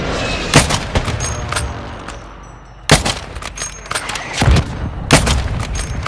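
Hostile mortar strike in Warzone Mobile: loud, close booming blasts strike in irregular bursts, a few seconds apart, with rumbling tails and scattered cracking between them.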